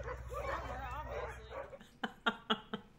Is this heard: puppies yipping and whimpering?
yes